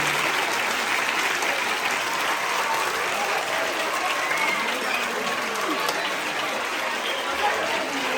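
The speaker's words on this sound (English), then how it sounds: "Clap for the boys' prefect" A school audience claps for the boys' prefect at a farewell gathering, a broad, sustained wash of applause that stays even from start to finish, with crowd murmur mixed in.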